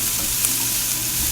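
Vegetables sauté in a hot pan, a steady close sizzle with faint stirring, brief and even, with no voices.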